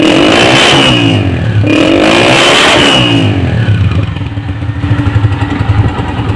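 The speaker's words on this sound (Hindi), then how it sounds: "अब इसका सिलेंसर का भी साउंड सुन लेते हैं इसी तरीके से।" A restored 2015 Honda CG 125's exhaust silencer is revved up loudly up close twice in rising bursts, then settles back to a rough, lumpy idle.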